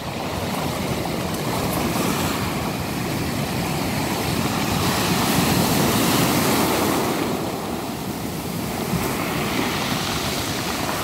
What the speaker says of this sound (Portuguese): até só ouvo aqui o som do rebolar das pedras